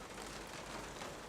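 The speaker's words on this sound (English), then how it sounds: "The wind picks up, and now it's time for rain." Rain sound effect cue played over a theater sound system, a steady, dense hiss of falling rain at moderate, even level throughout, with no speech.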